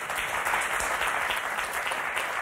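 A studio audience applauds on the French word game show Motus, a dense, even wash of clapping that holds steady at moderate volume with no voices over it.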